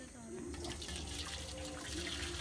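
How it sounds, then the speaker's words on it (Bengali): Hot water poured at an outdoor family picnic, a steady running splash under nearby voices and background chatter. "মাদি গরম জলটা ঢালো।"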